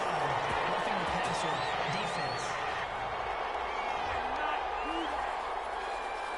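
Stadium crowd in the Madden 21 American football video game reacting to a penalty call, a dense continuous roar of voices with scattered whistles and shouts, steady and loud throughout with commentary-style talk mixed in.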